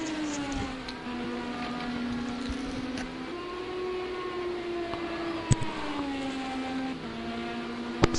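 IndyCar race car engines from the Project Cars 2 game at Road America, a steady loud drone that rises and falls with shifts through the whole stretch, with a couple of sharp clicks near the middle and end.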